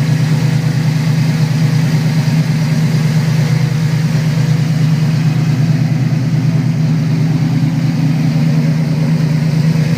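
A Ford Gran Torino Sport engine idles steadily through headers and a max flow exhaust, a loud, continuous low rumble close by with no talk over it.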